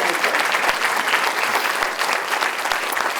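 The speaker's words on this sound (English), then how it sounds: "Could we have a round of applause for Nicole?" Audience applause at a chamber of commerce annual awards dinner, a thick, steady wash of many hands clapping at close range with no speech on top.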